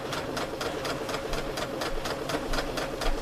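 A Brother Project Runway limited edition sewing machine stitches ruffles into fabric with a quick, even, rhythmic clatter that runs continuously at close range.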